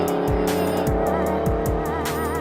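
A drag racing car launches down the strip, with loud engine revs rising in repeated sweeps and tire noise, heard up close at the track.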